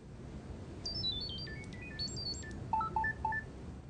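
Chirp app data tones transmitting a picture link, heard as a quick series of pitched electronic beeps stepping up and down over a steady background hiss, with no voices.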